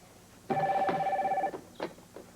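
A telephone bell rings once in a single steady electronic-sounding burst of about one second, close and clear, followed by faint handling clatter in a quiet room.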